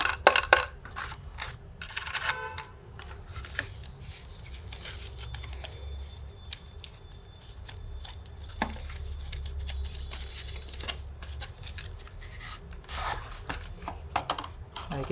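Plastic earphone packaging being opened, with close crinkling, clicking and rattling handling noises in irregular bursts and brief pauses between them.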